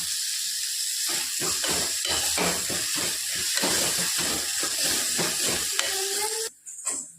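Chopped tomato sautéing in a pan for white salna gives a dense hissing sizzle with rhythmic scraping bursts from stirring, close and steady, before the sound drops away near the end.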